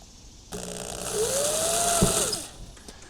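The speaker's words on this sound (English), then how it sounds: "drill a hole right where I have put that mark" A power drill whirs for about two seconds while drilling a hole in wood, its motor pitch rising and holding before winding down.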